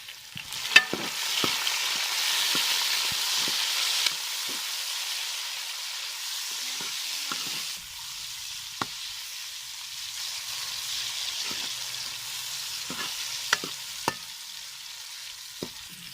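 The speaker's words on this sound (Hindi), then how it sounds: "प्याज ब्राउन हो गया, अभी टमाटर और हरी मिर्च डाल देंगे एक साथ ही।" Tomato and green chilli hit browned onion in a pan, giving a soft continuous sizzle with scattered sharp clicks and scrapes of stirring, moderately close.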